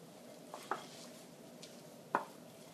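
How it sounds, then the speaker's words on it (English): A spoon mixes wheat germ muffin batter with canola oil and honey in a bowl. The stirring is soft and quiet, with two light clinks against the bowl standing out. "We continue to mix this until it's all incorporated."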